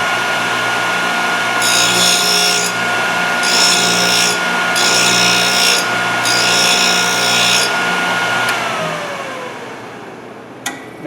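Sharpening machine grinding the cutting edge of a hole saw, a steady loud motor hum with four even bursts of bright grinding, then the motor winds down and a sharp click ends it.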